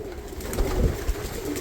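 Pigeons cooing in a loft among young squabs, low soft throaty coos pulsing close by, steady and unbroken over a brief moment.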